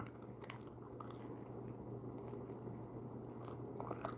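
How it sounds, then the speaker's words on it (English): Someone chews on a drinking straw in steady, close, soft biting and crunching bursts over a constant low electrical hum, with no talking. "I'm chewing on a straw right now."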